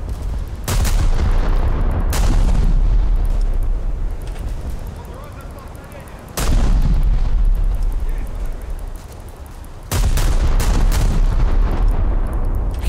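Naval gunfire in the War Thunder video game, with three heavy booming salvos spaced several seconds apart, each followed by a long rumbling roar that fills the gaps, loud and close.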